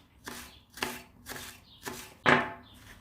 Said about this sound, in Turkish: Ortadan kesiyoruz. Bu şekilde ince ince doğruyoruz.